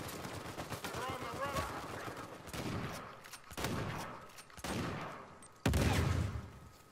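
Shotgun blasts in Uncharted 4 multiplayer, several sharp booming shots spaced about a second apart with a louder blast near the end, over game noise and a player talking.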